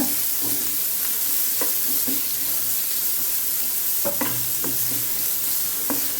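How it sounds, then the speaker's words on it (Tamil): Grated carrot sautéing in ghee in a pan while making carrot rava kesari, a steady close sizzle with scraping stir strokes and occasional spoon taps against the pan, no voices. "அந்த கேரட் எடுத்து நல்லா வதக்கி எடுத்துருங்க"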